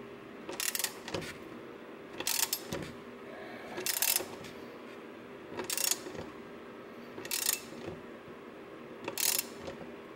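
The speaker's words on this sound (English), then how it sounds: "Okay, so we're going to go ahead and tighten this up now once everything's in position." A ratchet on a long extension tightens a bolt on a Kia Stinger GT2 short ram intake, six short bursts of rapid clicking spaced about every second and a half, close and distinct over a faint hum.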